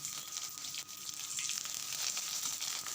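Cinnamon, cloves, cumin, dried red chillies and curry leaves fry in hot oil for a goat boti fry, giving a steady, fairly quiet sizzle and crackle with no talking.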